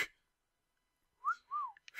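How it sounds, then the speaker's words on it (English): A person whistles two short, close rising-and-falling notes in a quiet room, a brief breathy sound trailing after. "Listen, I'm going to whistle right now."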